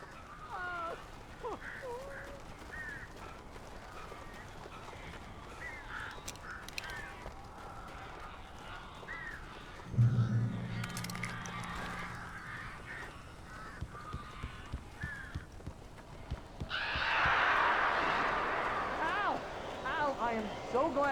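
Crows caw from the Alan Wake Remastered game, harsh repeated calls scattered through the scene over a steady ambient bed, with a louder burst near the end.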